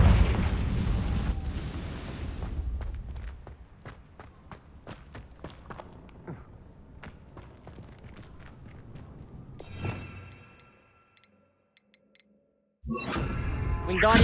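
A Confringo spell explosion in Hogwarts Legacy, an opening heavy boom that fades into scattered sharp cracks and footstep-like thuds, then a second rumbling burst, a near-silent gap and another loud blast.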